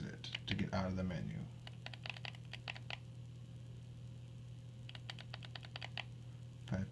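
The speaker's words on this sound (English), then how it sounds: "Five clicks to get back in there." Quick bursts of button clicks on a Pioneer4You IPV 3 LI 165W vape mod, in rapid clusters of about five presses separated by pauses, close and crisp.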